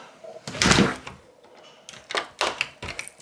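A door is locked with a firm thunk of the bolt, followed by several sharper clicks and taps from the lock hardware, all up close in a quiet room.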